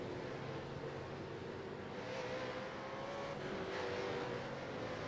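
Supercheap Auto East Coast V8 race cars circle the track at Sonoma, their engines a continuous distant roar with rising passes toward the end, steady and moderately faint beneath the crowd ambience.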